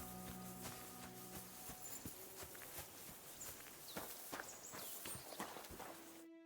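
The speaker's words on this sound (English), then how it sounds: "That must be my horse then, Pebbles." Horse hooves clip-clop at a steady walking pace in a video game, crisp and close, with faint ambient tones in the background.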